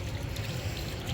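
Water pours or trickles steadily for about a second in a historic building in Heraklion, a soft, close stream with no voices.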